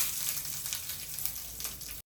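Mustard seeds, broken dried chilies and curry leaves fry in hot oil as a tempering for raw banana bajji, making a loud, close, continuous sizzle and crackle that cuts off abruptly at the end.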